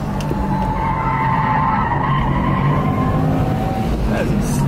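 Tires squeal and skid on a race track as a car corners hard, a loud continuous screech over steady engine roar, heard from inside the car with a voice talking over it.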